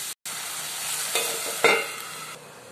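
Vegetables stirred in a pan with salt and turmeric for sago khichdi: a steady sizzle and scraping stir, with a brief dropout near the start and a couple of louder clatters midway.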